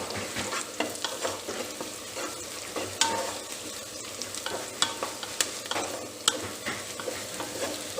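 Curry leaves frying in hot oil in a pan for a Telugu-style veg Manchuria, a steady close sizzle with scattered pops and crackles and occasional stirring scrapes, continuing without pause.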